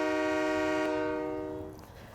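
The Polar Express train at Boyertown station sounds a long, loud, multi-tone horn blast that holds steady and then fades away as the train passes, with no voices.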